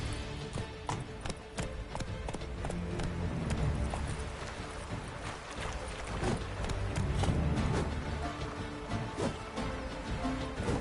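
Roach the horse galloping in Witcher 3: steady rapid hoofbeats on the ground, close and continuous throughout, over a dense low ambient bed.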